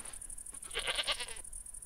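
A goat bleats in the Goat Petting Simulator video game, a single wavering call lasting about a second that stands out over a steady high electronic tone and faint background noise.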